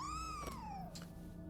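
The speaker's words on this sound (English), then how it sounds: "Oh, a little kitty cat." A cat meows once in the video game Nioh 2, a clear drawn-out call that rises and then falls, with a steady game background hum beneath it.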